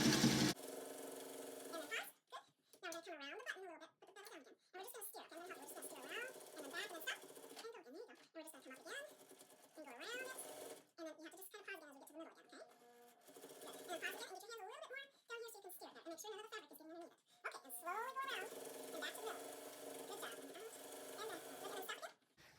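A home sewing machine stitches a beginner's bib near a button, its quiet mechanical whir running in stretches beneath a person talking through most of the passage.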